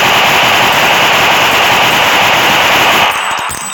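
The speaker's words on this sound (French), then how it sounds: "Voilà à quoi ça donne en mitraillette." Rapid machine gun fire from the iGun Pro mobile gun game, a loud continuous rattling burst that runs nearly four seconds before breaking into a few scattered final shots.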